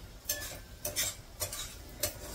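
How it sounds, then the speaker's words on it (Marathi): A spoon stirs dal in a cooking pot, making four soft scraping strokes at a slow even pace over a faint background hiss. "एकदा डाळीला हलवून देते"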